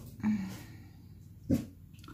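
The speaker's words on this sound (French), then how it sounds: "si vous entendez mon chien aboyer" A pet dog indoors gives two short, muffled woofs about a second apart, fairly close, over a quiet room hum.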